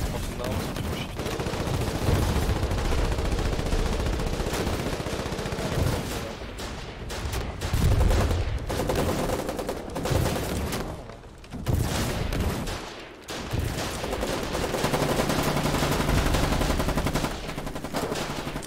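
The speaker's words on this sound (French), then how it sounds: "l'IA ne tire que sur moi" Game gunfire from AI enemies in the war game Foxhole, rapid bursts and single shots crackling almost nonstop at close range, loud and dense with brief lulls.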